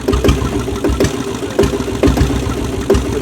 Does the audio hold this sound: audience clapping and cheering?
no